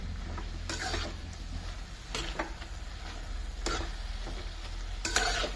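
Spinach with coarsely crushed peanuts is sautéed in a pan, a soft steady sizzle broken by a few bursts of spatula scraping, with a low hum underneath.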